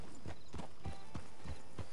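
Horse hooves clip-clop in the Red Dead Online video game, a steady even walking rhythm of about six distinct thuds in two seconds, close and moderately quiet, with no talk over them.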